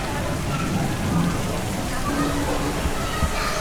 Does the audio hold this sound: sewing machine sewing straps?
no